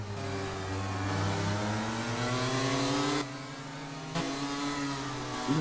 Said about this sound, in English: you can just listen to how much torture that engine's being put through. Constant high revs for these drivers.